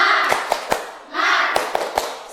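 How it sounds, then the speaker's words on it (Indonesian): Students in a classroom doing a rhythmic spirit clap as an icebreaker, a few sharp clap accents in a patterned beat mixed with group chanting voices. "Tepuk semangat."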